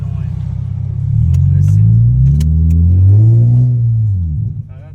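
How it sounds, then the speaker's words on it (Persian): A Nissan Z sports car engine revs up loudly with a deep exhaust rumble that rises and swells, then drops away near the end. "فقط یه خورده صدای اگزوزش زیاد اذیت نمیکنه"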